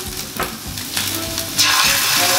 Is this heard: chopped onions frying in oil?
yes